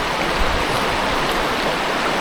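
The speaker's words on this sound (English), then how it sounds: "sitting here on the creek looking at a couple pretty good sized bull trout" Creek water rushes steadily past a shady fall campsite in Idaho, a close, loud and continuous broadband flow with no voices.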